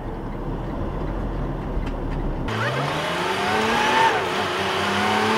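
Race cars accelerate off a corner, with a loud, rising engine roar that climbs in pitch as the cars build speed, close and continuous after a sudden start.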